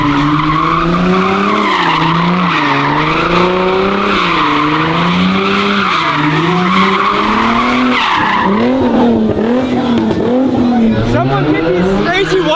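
A car skids across a street and nearly hits people standing in the road, with a loud, sustained, wavering tire squeal running throughout and shifting in pitch near the end.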